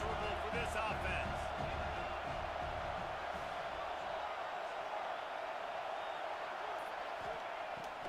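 Stadium crowd noise in a college football video game, Wisconsin at Penn State, a constant roaring wash of fans that fades slightly over time beneath ongoing commentary.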